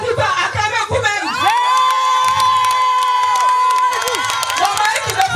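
A church congregation at a thanksgiving and rejoicing ceremony cheers and acclaims loudly, with shouting voices, whoops and a long sustained ululating cry rising over dense crowd noise throughout.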